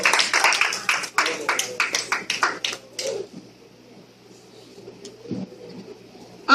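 A church congregation applauds together, a dense burst of clapping that lasts about three seconds and then stops, leaving quiet room tone with a few faint shuffles.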